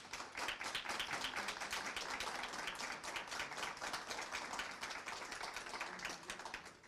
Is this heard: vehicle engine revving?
no